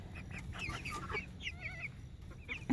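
Several chickens, hens and a rooster, cluck and murmur softly at close range, with a brief rooster call and steady low background rumble throughout.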